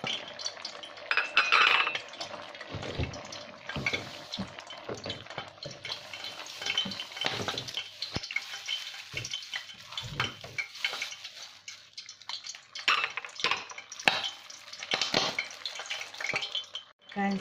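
Prawns being stirred in a hot pan for a rambutan curry, with a low sizzle under frequent clinks and scrapes of a metal utensil against the pan, close and uneven.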